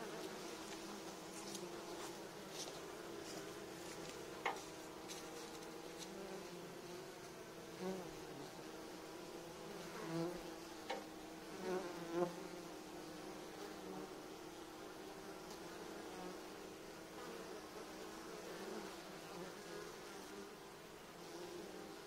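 Honeybees at apiary hives in late October, with foragers still bringing in pollen, fill the air with a steady, dense buzzing swarm drone, broken now and then by individual bees flying close past.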